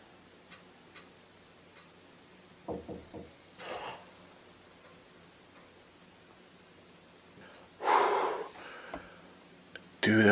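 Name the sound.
three knocks on an attic wall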